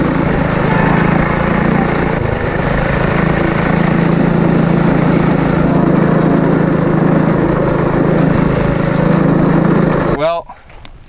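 A small rally kart engine drives at a loud, steady drone, close by and unbroken for about ten seconds before cutting off abruptly at the end.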